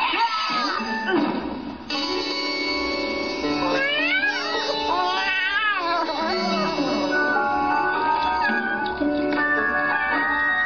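A cartoon cat meowing and yowling loudly for about ten seconds, a run of drawn-out, wavering cries that rise and fall in pitch, close up, over background music.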